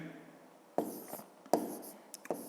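Pen scratching out long division on paper, a few quick separate writing strokes, close and fairly quiet, with short pauses between them.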